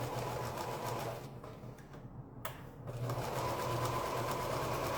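A sewing machine stitches quilt fabric in a steady close whir, pausing briefly near the middle before running on again at an even pace.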